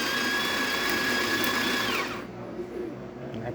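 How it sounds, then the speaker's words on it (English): A De'Longhi La Specialista espresso machine grinds coffee beans with a loud, close, steady whirring roar for about two seconds, then cuts off into a quieter lingering hum. "we're just gonna do a test shot starting from scratch all the way from grinding the coffee all the way to the cup"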